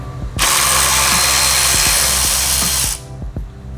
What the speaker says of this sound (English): we're going to go ahead and remove the sensor. It is a Torx T25.